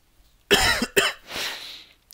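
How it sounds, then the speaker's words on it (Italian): A person with a pollen allergy coughs twice in quick succession, close and loud, followed by a raspy exhale. "c'è pure la tosse."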